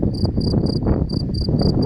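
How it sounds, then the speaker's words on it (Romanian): Crickets chirp by a large lake at Izvorul Muntelui in a steady train of rhythmic pulsed bursts, close and clear, over a low outdoor rumble. "Și câtă greiera și ăsta."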